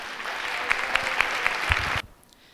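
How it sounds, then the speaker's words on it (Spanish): Audience applause at a talk by the TOC Granada association, a steady wash of clapping from a seated crowd that stops abruptly, followed by near silence. "un aplauso para ella"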